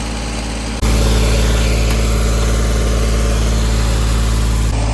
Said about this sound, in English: So we fired it up, and the RPMs took off.